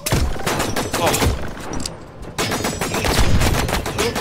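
Enemy strafing gunfire in the video game Robot Explorer: dense, loud bursts of rapid shots that pause briefly in the middle, then resume and continue steadily to the end.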